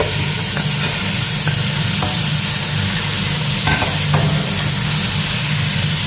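Cleaned crab going into a hot frying pan with curry leaves, a loud, steady sizzle and hiss filling the whole stretch, with a few faint clicks of stirring on top.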